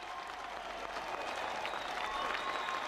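Steady applause from a large crowd at the 1993 World's Strongest Man contest, greeting a tough Welsh competitor and a Viking-styled strongman, dense and continuous with a faint voice underneath.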